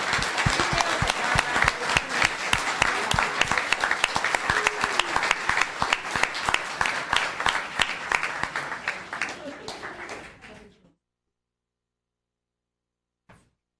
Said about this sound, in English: Let's give a round of applause to this month's small business.